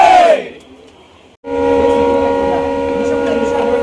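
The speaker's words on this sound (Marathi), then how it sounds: "तर फायनली गाडी सुटलेली आहे." A train pulling out of Sainagar Shirdi station opens with a loud horn blast that fades. After a brief gap comes a steady, close rumble of departing rail cars, with a crowd faintly audible.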